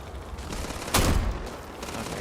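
A single short burst of gunfire from the video game Starfield cracks out in the middle, loud against a constant hiss of background noise.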